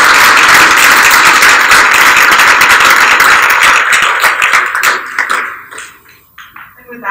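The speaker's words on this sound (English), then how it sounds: "let's give them a big round of applause" An audience at a graduation ceremony gives dense, loud applause that holds steady for several seconds, then thins into scattered claps and fades out.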